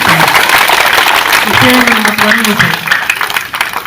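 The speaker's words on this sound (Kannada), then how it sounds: "ಚಪ್ಪಾಳೆ ಮೂಲಕ ಅವರಿಗೆ ಧನ್ಯವಾದಗಳನ್ನು" A crowd at a free school-bag distribution event for schoolchildren claps in steady, dense applause that fills the hall and lasts throughout, thinning slightly at the end, with a voice speaking over it.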